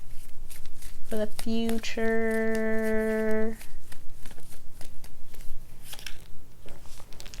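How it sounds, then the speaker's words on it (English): Tarot cards shuffled by hand and drawn from the deck, producing close, brisk riffling and soft slides with a few sharp snaps, over a steady background hum; a brief tonal chime sounds partway through. "I'm gonna pull one more card for the future"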